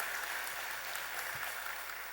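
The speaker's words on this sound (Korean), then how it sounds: "아름답게 오늘 한번 박수 한번 해주십시오" A church congregation clapping at a Sunday evening service, giving a soft, even patter of many hands that stays level for the whole stretch, heard faintly from some distance with no voices over it.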